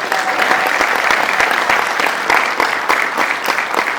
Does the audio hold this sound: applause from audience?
yes